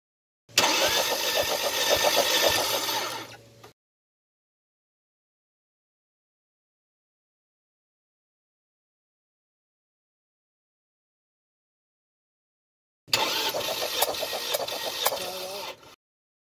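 A Ford Mondeo 2.0 engine with a blown head is cranked during a compression test: two separate bursts of starter cranking, each about three seconds long, with a long silent gap between them.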